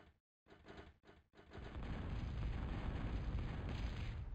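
Explosions from a bombing run in a real-time strategy game match, a few short muffled thuds followed by a sustained low rumbling roar that builds and holds, fairly faint.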